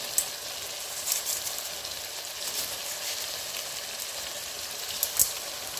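A masala of chilli powder, ginger and garlic with rock salt sautés in a pan for chicken curry, giving a soft, even sizzle with a few faint clicks of stirring.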